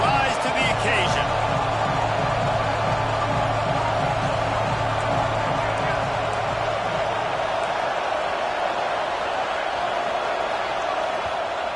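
A stadium crowd in a college football video game roars steadily on a fourth-down defensive stand against the Ducks, a loud, continuous wash of noise that barely dips for the whole stretch.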